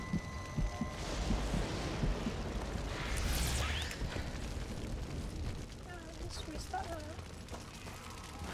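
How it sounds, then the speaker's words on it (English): A grenade blast in the zombie shooter Zombie Army Trilogy: a rumbling boom that swells and then rolls off into a long noisy wash, mixed with other game effects and scattered sounds. "Let me throw a grenade there."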